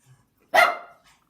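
A single dog gives one loud, close bark with a short fading tail and a faint trailing yip, heard alone with no talking.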